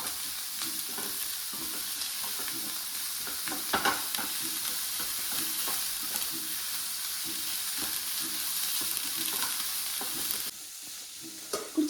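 Sliced onions frying in a pan for masala dosa filling give a steady close sizzle, with occasional scraping and stirring sounds throughout and no talking.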